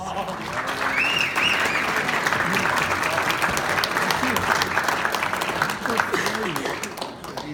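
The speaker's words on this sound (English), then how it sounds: "I think we should give him a round of applause." An audience gives a round of applause for a performer, a dense, steady burst of many hands clapping that fills the room and holds strong for several seconds, with scattered voices and whoops mixed in.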